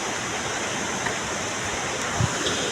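Water rushes steadily along an irrigation channel beside a village watermill, a dense, constant, close roar of flowing water with no pauses.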